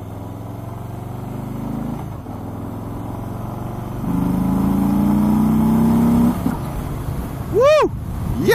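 A 2018 Harley-Davidson Street Bob with a 107 engine pulls hard, its low exhaust drone building and rising in pitch as it accelerates, with wind noise over it.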